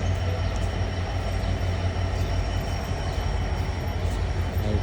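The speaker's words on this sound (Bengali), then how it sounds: "আবার একটা ট্রেন খুলনা স্টেশনে এসে থামলো।" A train pulls into Khulna station in Bangladesh, its rolling cars and wheels giving a loud, steady rumble close by through the whole stretch, with no voices.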